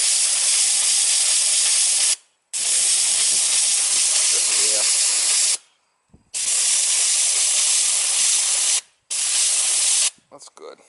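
A garden hose sprays water under strong pressure against a wall at an ocean guest cottage being winterized, making loud, close hissing bursts: three long sprays and a short one, separated by brief pauses.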